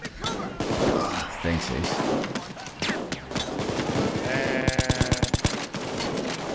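Sniper shots and bursts of gunfire ring out during a bank robbery in a video game, with rapid rhythmic volleys toward the end. Someone talks briefly over the shooting.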